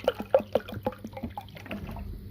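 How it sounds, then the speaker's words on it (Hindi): Water poured into a cooking pan on the stove, a quick series of splashing, dripping plops that fade into a softer trickle, heard close with no talk. "पानी को ऐड करेंगे इस पैन में।"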